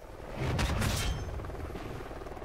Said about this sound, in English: Let's uh let's use this chopper gunner well helo pilot